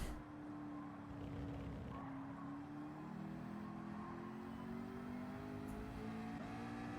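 An LMP2 prototype race car at the Rolex 24 Hours of Daytona roars past, its engine note sweeping steadily in pitch at close to moderate range, loud and continuous with no talk.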